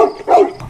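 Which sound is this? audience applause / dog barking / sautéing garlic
dog barking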